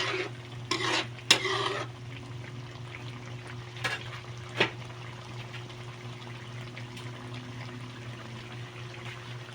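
Dinuguan, a Filipino pork blood stew, is stir-fried down in a pan with a low sizzle under a steady hum, plus a few sharp scrapes and clinks of stirring near the start.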